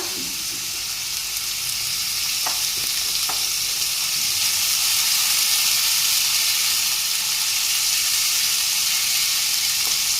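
Cumin paste for a chital fish curry sizzles loudly in hot oil, a dense continuous hiss with a few faint clicks of stirring scattered through, close and unbroken, with no talking.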